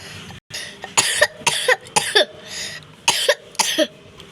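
A series of sharp, forceful coughs in quick bursts, close and loud, with brief pauses between them.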